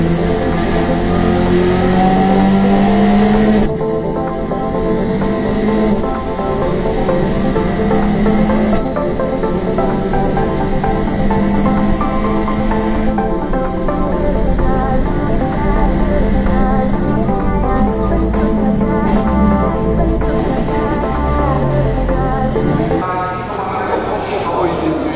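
GT4 race cars roar off the start at the Nürburgring, a dense, loud wall of revving engines with shifting pitches that carries on steadily throughout, with a voice talking over the engine noise.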